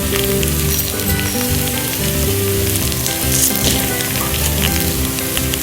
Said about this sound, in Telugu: బాగా వేగితే వెంటనే ఇలా వచ్చేస్తాయి, అందుకే సిమ్లో పెట్టుకొని వేయించుకోండి బాగా.